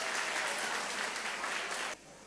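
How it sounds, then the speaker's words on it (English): An audience at an inter-school quiz competition applauds in a dense, steady burst of clapping that cuts off sharply near the end, with no talking. "please do clap for yourselves"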